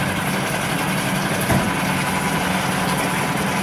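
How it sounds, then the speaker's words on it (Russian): A CG Marine 6hp four-stroke outboard motor idles at constant revs, a steady, close, unbroken drone with no variation. "Холостой ход. Вот так вот он на таких оборотах может работать просто вечно."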